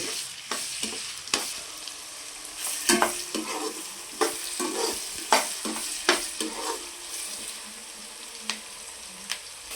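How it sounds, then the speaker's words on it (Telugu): Onion pieces and green chillies sizzling in oil for egg rice, with a soft continuous fry and repeated scraping stirs of a spatula in the pan, close and without talk. "ఉల్లిపాయ ముక్కలు కూడా వేసుకుందామండి పచ్చిమిరకాయలు ఒక వేగినవి బాగా దోరగా యాగనివ్వాలి"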